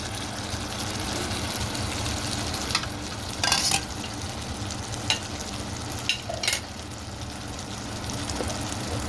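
Food cooks in a pan, a soft continuous sizzle and frying hiss heard up close, broken by a few brief scrapes and stirring clanks; no one speaks.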